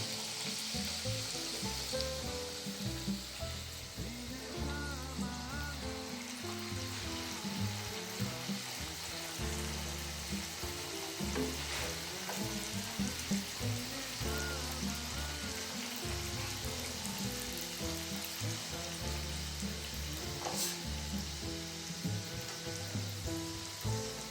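Halwa-stuffed wheat flour puri frying in hot oil, a steady dense sizzle with bubbling crackles and occasional sharper pops running continuously, close and moderately soft with no talking.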